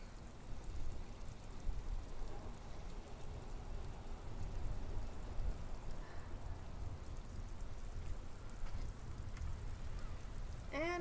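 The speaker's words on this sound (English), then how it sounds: "I hear the rain." Steady rain patters in the background in the video game Disco Elysium, soft and continuous, with a faint chirp near the end and no talking.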